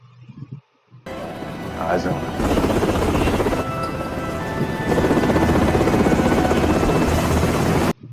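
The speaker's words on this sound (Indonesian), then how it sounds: "Helikopter pun tiba" A helicopter arriving to land at a rescue point, its loud, steady rotor roar filling most of the clip, starting suddenly after a brief quiet moment and staying close and powerful throughout.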